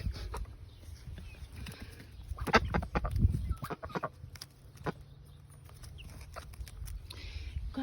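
Chickens and ducks on a farm give low clucks and scattered calls in the open air, with a brief louder flurry midway, all fairly quiet and close by.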